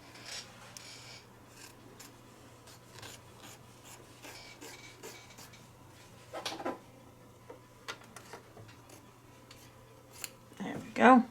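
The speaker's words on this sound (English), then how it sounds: "I'm going to trim off around the shoulders and across the top" Scissors trim fabric around the shoulders and top of a machine-embroidered Santa table runner, quiet crisp snips at irregular intervals against a low steady hum, with a brief rustle and a louder handling noise near the end.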